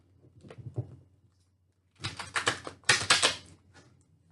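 Stiff tarot cards being shuffled by hand, two bursts of crisp riffling and flicking after a few soft handling sounds, close and fairly loud with no talking.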